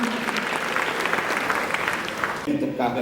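Audience applause at a dance performance: steady, dense clapping from a full hall at moderate volume, tapering off in the last half-second as a voice starts speaking.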